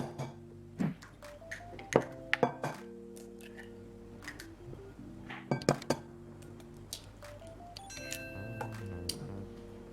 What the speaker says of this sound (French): Prenez maintenant une assiette creuse, vos 3 œufs et cassez-les à l'intérieur.